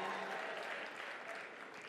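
Audience applause at a Merck Foundation Africa Asia Luminary meeting, a steady wash of clapping from a seated crowd, moderately loud and continuous for about two seconds.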